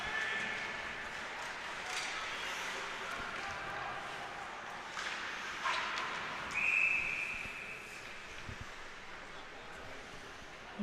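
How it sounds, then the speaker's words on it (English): In an ice hockey game, a referee's whistle blows a single sharp shrill blast to stop play, heard a short distance off over a broad crowd and arena rumble. "Whistle and stoppage in play."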